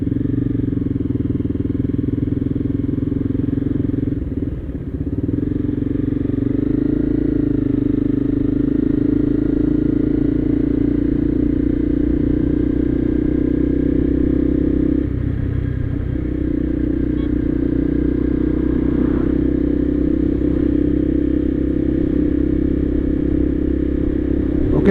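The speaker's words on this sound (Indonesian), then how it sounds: "Naik motor cepet-cepet amat." A motorcycle rides fast on a highway during a long-distance tour, its engine droning loud and steady with constant road and wind noise and a brief dip partway through.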